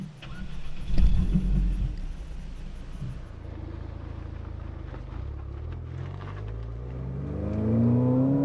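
Ford Fiesta ST turbocharged engine pulling hard under acceleration, a rising drone climbing steadily in pitch over several seconds inside the car, with a brief louder burst near the start and no talking.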